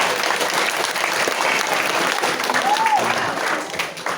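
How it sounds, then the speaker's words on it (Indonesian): Junior high school students applaud together at a Ramadan study gathering, a dense, steady roar of many hands filling the room from start to finish with a brief tonal whine partway through. "tepuk tangan untuk si P2 Manigo"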